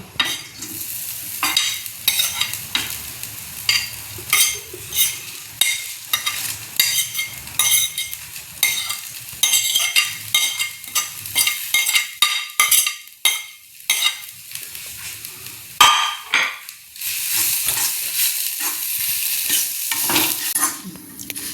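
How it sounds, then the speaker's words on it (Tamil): Dried red chillies, curry leaves, garlic and grated coconut are dry-roasted in a pan, a dense run of rapid scraping and rattling stirs with a light crackle, loud and close and almost continuous, easing into a steadier hiss near the end. "வத்தல், கறிவேப்பிலை, உள்ளி இதெல்லாம் வறுத்துக்கும். தேங்காய் வறுத்துக்கும்."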